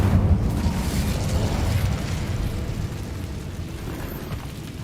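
In Hogwarts Legacy, an Incendio fire spell bursts with a low rumbling whoosh that is loudest at the start and then fades into a steady crackling roar.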